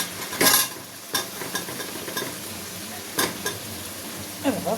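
Taro tipped into a hot pan of cooked spice paste lets out a loud burst of sizzling, followed by a softer steady fry broken by several sharp scrapes and knocks as it gets stirred.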